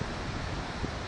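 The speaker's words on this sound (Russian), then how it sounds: "И вот такие у нас сегодня волны." Big sea waves and strong wind on the coast at Cadiz in rough, rainy weather, heard as a steady, loud broadband roar with wind buffeting the microphone throughout.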